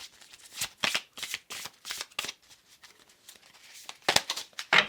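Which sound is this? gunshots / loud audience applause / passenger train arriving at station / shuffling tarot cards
shuffling tarot cards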